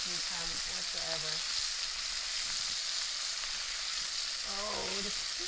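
Prawns frying in a pan for crunchy Sichuan salt and pepper prawns, a steady loud sizzle throughout, with brief voices talking over it near the start and end.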